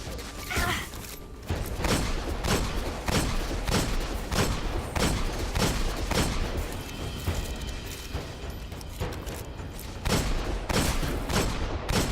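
Rapid gunfire bursts from the Destiny video game, repeated sharp shots in quick volleys with mechanical clatter, loud and close throughout with no talk.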